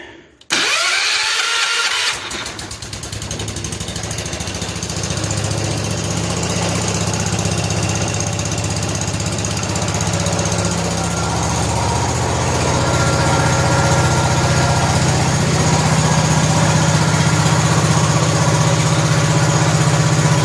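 A 1970 John Deere 140 H3 garden tractor engine, freshly fueled, cranks briefly, fires up and settles into a loud, steady, close idle with a slight knock, with no voices.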